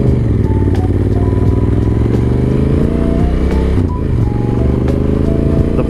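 A Honda Africa Twin motorcycle with many accessories rides steadily, its engine droning loud and constant throughout, with wind and road noise and no talking.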